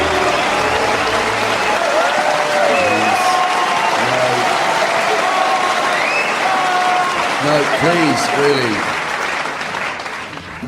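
A studio audience claps in a loud, sustained wave at a comedy panel show, and someone talks over it partway through.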